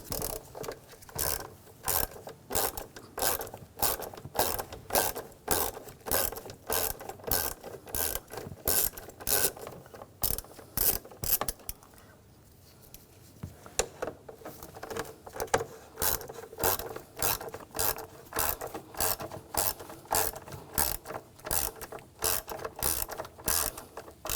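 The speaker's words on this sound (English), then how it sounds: "We're going to use the Hex 5mm socket. Take those out." A ratchet fitted with a 5mm hex socket turns out screws on a 2007–2013 BMW X5 3.0L inline-six, giving a long, steady run of crisp, close clicks with a brief pause partway through.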